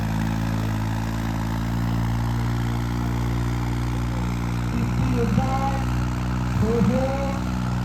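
A tractor engine idles with a steady low rumble at a tractor-trolley competition in a Punjab village, holding an even pitch while faint chirping sounds rise briefly near the end.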